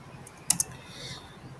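A computer keyboard clicks as a spreadsheet formula is typed, a quick pair of sharp key taps followed by quiet room noise.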